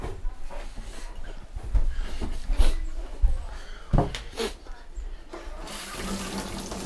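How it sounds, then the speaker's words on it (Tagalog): Hands being washed under a running tap, water splashing and pouring into a sink with some knocking and handling noises, fairly close. "makihugas lang ako ng kamay"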